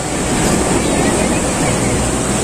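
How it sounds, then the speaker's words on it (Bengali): Sea waves breaking on the beach at Digha, a steady loud roar of surf mixed with heavy wind buffeting the microphone, continuous with no clear separate breakers. "সমুদ্রের ঢেউটা দেখছো?"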